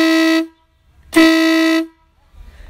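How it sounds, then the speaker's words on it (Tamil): Two loud, blaring blasts from a customized air horn on a Harley-Davidson Fatboy motorcycle sound up close, a short one followed by a longer held one, with a brief silence between. "ஸோ இது ஒரு கஸ்டமைஸ்டு ஏர் ஹார்ன் வந்து ஃபிட் பண்ணியிருக்கிறாங்க."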